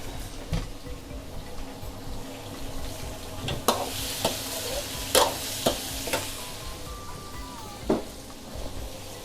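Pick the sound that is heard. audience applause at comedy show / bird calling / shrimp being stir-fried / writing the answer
shrimp being stir-fried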